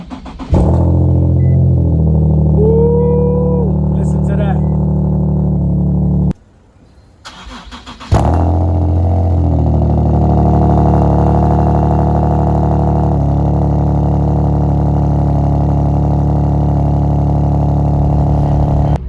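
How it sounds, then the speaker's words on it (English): A Nissan NISMO car engine starting and running loud and close, a steady mid-pitched idle with some revving, cutting out briefly before restarting on a second try and settling into a sustained hum. "It felt really nice turning on the NISMO right now."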